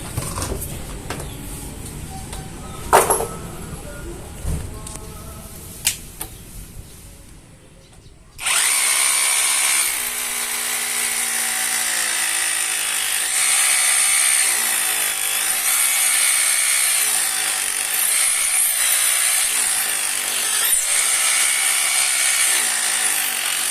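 A cheap Hujia cordless hammer drill bores into cast concrete, first in a few short bursts and then in one long, continuous, grinding run heard close and alone.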